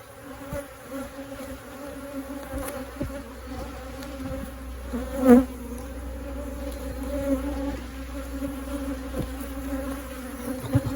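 Steady insect buzzing of many honeybees swarming close around a phone, with a sharper bump as one strikes it, continuing throughout without any talking.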